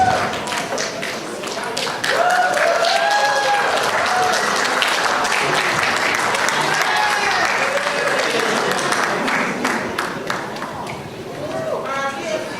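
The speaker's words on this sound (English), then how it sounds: "Again, round of applause, please" Audience applause for a performer at a family celebration of a police inspector's promotion, with a Tongan tau'olunga dance, dense clapping filling the room for about twelve seconds, with voices and cheers mixed in throughout.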